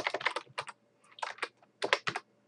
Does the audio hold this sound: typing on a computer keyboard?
yes